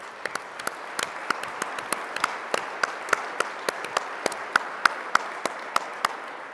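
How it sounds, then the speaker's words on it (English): Applause at a business summit, modest and somewhat distant, with a scattering of sharp individual claps rising above a soft continuous patter. "while you're clapping"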